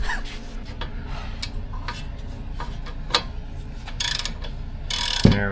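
Ratchet removing a Mazda CX-9 front brake caliper bolt, soft steady clicking close by over a low background hum, with a few sharper knocks toward the end.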